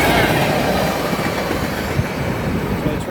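A heavy CN manifest freight train rolls past close by, a loud steady rumble of wheels on rail with rhythmic clicking and faint squeal, filling the whole moment without any talk.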